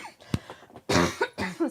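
A person lets out one sharp cough, then a couple of rougher, throaty coughing bursts follow close together, all near and fairly loud in a quiet room.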